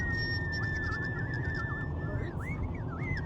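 A person imitates bird calls over a walkie-talkie, wavering whistled warbles coming through a noisy radio channel during a car road trip.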